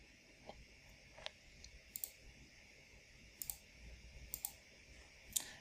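Sharp, quiet mouse clicks on a computer while running software tests, several isolated ticks spread irregularly over a faint room hiss, with no talking.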